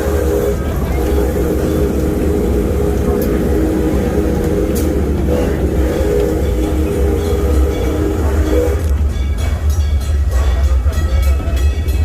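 Steady rumbling rolling noise of an amusement park train running on tracks, loud and continuous, with a shift in tone near the end.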